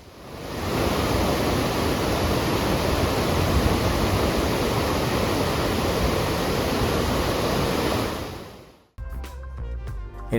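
The Iguazú waterfalls in Argentina roar as a dense, unbroken wash of falling water heard from very close, loud and steady for several seconds before cutting off abruptly to music.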